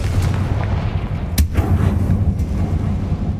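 A Confringo fire spell in the Hogwarts Legacy video game bursts in one sharp blast partway through, cutting above a dense, steady bed of low game rumble and ambience.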